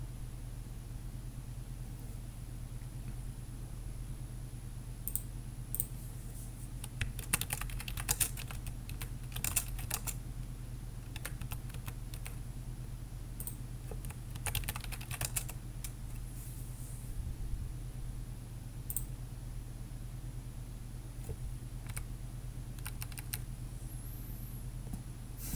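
Rapid, uneven clatter of keys on a computer keyboard as text goes into a Word document, in quiet bursts with short pauses, heard alone over a faint steady hum.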